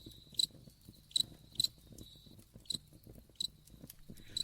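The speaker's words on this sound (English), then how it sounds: "An incredibly loud cricket." A cricket chirps in short, sharp bursts at irregular intervals, close and prominent against a quiet background.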